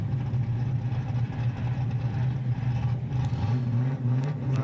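A drift car's engine drones steadily at a drift series event, a continuous low rumble heard at a distance with crowd and track ambience and no clear revving changes.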